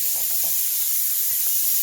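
Steam hisses from a pressure cooker holding rice, a continuous loud, even spray that fills the whole short stretch without pauses.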